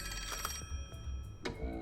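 A telephone rings in a detective video game, a few repeated bright electronic trill bursts over a quiet game background, moderately loud and alone.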